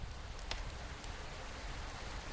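Rain in a video game, a steady hiss of rainfall with scattered drop ticks, continuous and moderately soft throughout.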